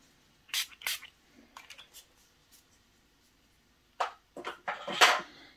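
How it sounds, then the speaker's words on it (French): Several short, sharp spray bottle bursts mist droplets onto paper for an album background, near and crisp, separated by quiet gaps with a cluster of quick pumps near the end. "je vais venir pchiter, mais voilà, on va faire avec un autre spray pour faire des gouttelettes un petit peu différentes"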